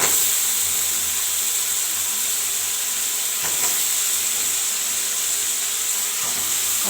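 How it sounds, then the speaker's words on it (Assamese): Vegetables frying in a pan with spices for a long eggplant dish, giving a steady close sizzle and hiss of cooking with a few soft stirring knocks, no voices. "এতিয়া ভালকৈ মই ভাজি ল'ম 5 মিনিটমান।"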